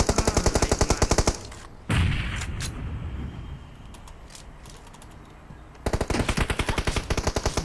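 Automatic gunfire in PUBG Mobile rattles in rapid, loud bursts at the start and end, separated by a quieter stretch with a sharp single impact and faint background clatter.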